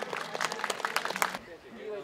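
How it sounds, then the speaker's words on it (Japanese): Audience applause at the 24th Nagano Marathon award ceremony: a burst of many hands clapping in quick, uneven rhythm from a mid-distance crowd, cutting off after about a second and a half as a voice begins speaking. "どうぞ大きな拍手をお送りください"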